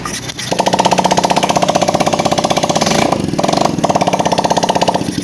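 A Honda Beat ESP scooter engine idling after a hard start, a loud close steady putter with a rapid regular pulse and a brief dip in the middle, no talking.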